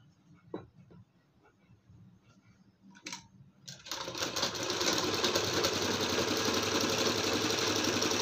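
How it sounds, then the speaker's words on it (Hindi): An electric sewing machine stitches around a round neckline on fabric, starting after a few soft handling taps and then running as a steady, close, continuous whir for several seconds, with no talk. "यहाँ पे हमने सिलाई लगा लिया।"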